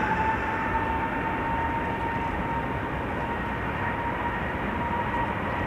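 A China Airlines Airbus A350-900 departs Amsterdam Schiphol Airport with a steady, broad jet engine roar that holds at a constant level, fairly near, with no talk.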